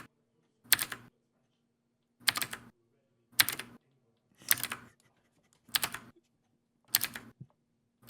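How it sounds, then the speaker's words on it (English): Bursts of rapid computer keyboard typing, six separate clusters of quick key clacks spaced about a second apart, close and crisp against a quiet background with a faint steady hum. "Luke's keyboard is louder than Tom"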